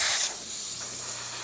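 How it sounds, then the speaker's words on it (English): A Breville espresso machine's steam wand, tested after a full tune-up for low water flow, blows a loud, steady hiss of steam, strongest at the start and then continuing evenly and close up with no talking. "steam working perfectly fine."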